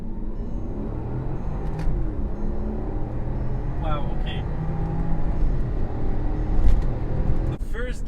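A Porsche Cayenne Turbo S launches from a standstill in first gear, its engine roaring and rising in pitch under a steady, heavy rumble of acceleration heard from inside the cabin, with a brief voice reacting.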